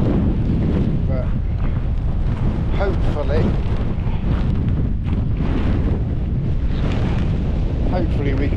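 Strong wind buffets the microphone outdoors on a windy mountain pass, a dense, loud, continuous low roar with gusting swells throughout, and a voice speaks briefly under it.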